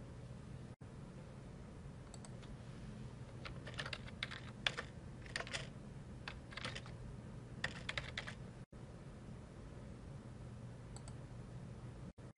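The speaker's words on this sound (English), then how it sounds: "In our case, we would type in Green, comma, Robert" Keys tap out bursts of typing on a computer keyboard, a quick cluster of soft clicks that pauses and resumes, heard close over a low steady room hum.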